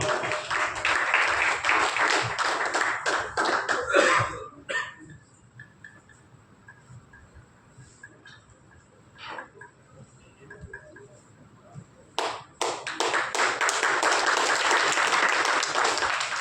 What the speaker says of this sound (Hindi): तालियों के साथ स्वागत करिए